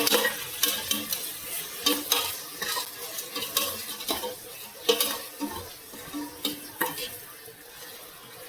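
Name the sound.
onions sautéing in a pan for chicken biryani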